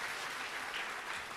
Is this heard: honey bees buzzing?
no